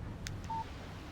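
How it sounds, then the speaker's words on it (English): A short electronic phone notification tone rings once in the video game Alan Wake Remastered. It is brief and clear over a steady background hum. "Text message from Barry."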